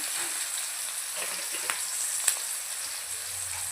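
Onion sautéed with a little salt in a pan for butter chicken gives a soft, even frying hiss, fairly quiet and close, with a couple of faint clinks of the spoon near the end and no talking.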